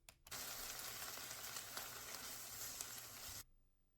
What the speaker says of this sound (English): she's just basically making scrambled eggs with sausage